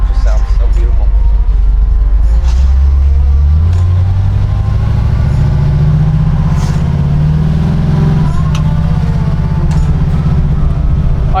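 A 1968 Chevelle V8 engine rumbles loudly up close, its deep note climbing as it revs up and then holding at a higher, steady drone.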